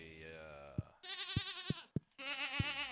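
Goats bleat in the farming video game Stardew Valley, several drawn-out wavering cries in a row, clear and close, with short soft thumps between calls and no talk over them.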